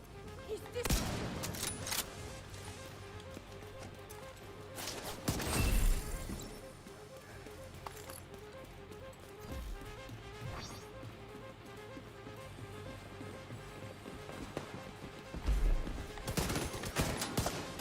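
Gunfire and impacts in The Division 2, with heavy bursts of shots and crashing hits recurring through a busy combat mix, a few loud blasts standing out near the start, middle and end.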